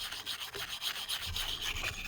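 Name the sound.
scrubbing Aqua Hot part with a wire brush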